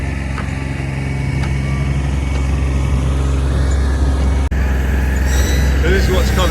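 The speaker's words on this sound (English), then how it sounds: "I went and picked up this Palex log cleaner. We're using it at the moment" A Palex log cleaner machine runs steadily, drying digestate with a dense mechanical drone and engine-like hum, loud and continuous apart from one sharp click, with faint rattles and squeaks on top.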